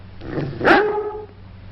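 A single dog gives a short, close bark rising out of a low background hum, standing alone with no talk around it.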